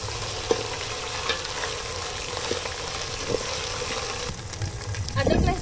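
Ginger garlic paste fries with golden-browned onions in a pan over a village wood-fire stove for chicken biryani, a continuous close sizzle broken by occasional spoon clinks and a louder burst of stirring at the end.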